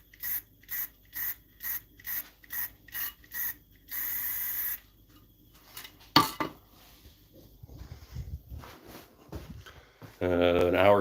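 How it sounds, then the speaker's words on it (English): Short hissing spritzes from a spray can of lacquer on a turned wooden bowl, about seven even bursts then one longer spray, followed by quieter handling clatter and another spray burst at the end. "To do a couple of spritzes of lacquer on it."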